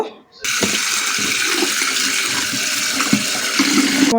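Tap water runs steadily into a sink while pieces of beef are rinsed, a continuous close splashing wash with faint clatter and no talk.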